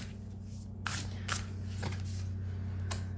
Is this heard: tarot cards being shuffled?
yes